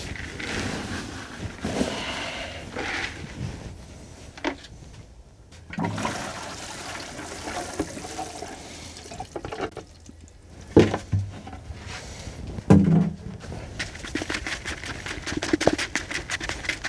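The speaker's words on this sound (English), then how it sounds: "I'm just going to wet it in the bucket" Cardboard is dunked and worked in a bucket of water while layering a heated worm breeder bin, giving close sloshing, splashing and trickling bursts with short drips between them.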